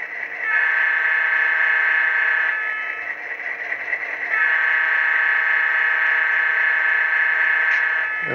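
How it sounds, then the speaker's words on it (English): The sound-system air horn of a Walthers SD9 model locomotive blares loud and steady for several seconds. It dips briefly midway, then sounds again at full strength. "F2 is the air horn."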